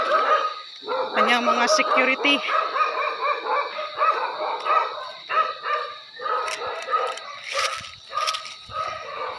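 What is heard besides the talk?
dogs barking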